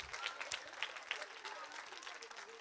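An audience applauds the teachers at an evening dialect-song contest: steady, fairly distant clapping from a crowd throughout, with faint voices underneath.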